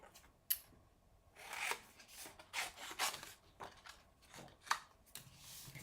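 Cardstock images being trimmed by hand before die cutting on a mini Stampin' Cut and Emboss machine, with scattered quiet cutting and rubbing strokes close by and no speech.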